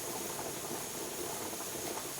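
Steady, broad hiss of steam venting from a pressure canner while hot-packed chicken is being processed, continuous and fairly loud with no voices.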